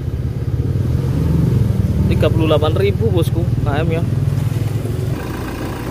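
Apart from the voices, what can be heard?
Toyota Reborn diesel engine running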